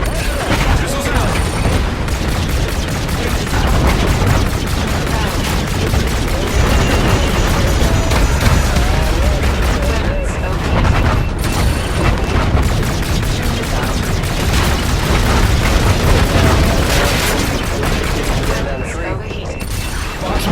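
Missiles launching and exploding in a Call of Duty Infinite Warfare space battle against a destroyer, a dense continuous barrage of loud booms, bursts and mechanical firing, with radio voices talking over it.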